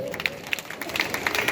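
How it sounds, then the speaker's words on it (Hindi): An audience at a staged religious assembly depicting the court of the Saudharma Indra claps in scattered, uneven bursts. The claps are moderately loud, with sharp individual hits standing out from a light crowd murmur. "तालियां तो बजा दो।"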